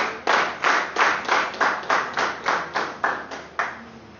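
An audience at a club business meeting claps in a steady, coordinated rhythm of about ten sharp, evenly spaced unison claps, loud and close with no talking.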